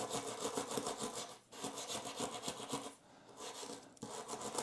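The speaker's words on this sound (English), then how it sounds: "take our brass brush and gently, with not a lot of force, we're gonna kind of use a circular motion around the pins" A brass brush scrubs the charging pins on an Ember mug's charging saucer with gentle circular strokes, a close, quiet scratchy rasp in short bursts broken by brief pauses.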